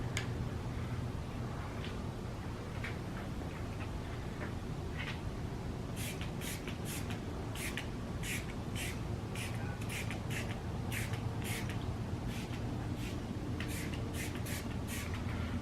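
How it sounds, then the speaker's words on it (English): Ceramic boost coating sprayed heavily from a bottle onto a car's front fender, a quiet series of short hissing spray bursts repeating in quick rhythm over low background noise. "I'm spraying it on fairly heavy."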